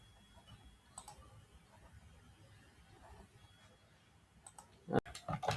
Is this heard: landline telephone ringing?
no